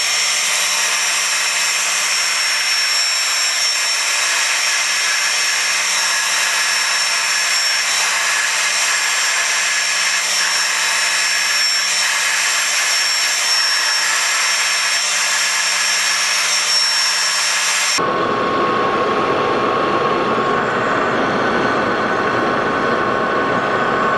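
A metal lathe parts off a workpiece about half an inch thick for an Oliver 80 table saw fence restoration, giving a loud, continuous broadband grinding roar that shifts abruptly in tone near the end.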